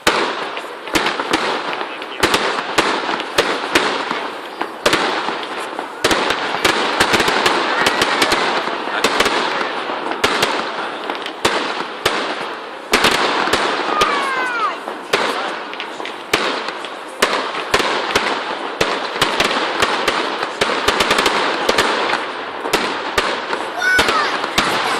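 Dud fireworks from a 2013 display going off in a dense, continuous barrage of crackles and bangs, loud and close, with people chattering and cheering underneath throughout.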